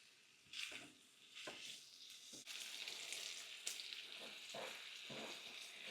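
Plain pork and spicy sausage browning in a pan, a faint, steady sizzle with soft crackles and a few light stirring scrapes, and no voices.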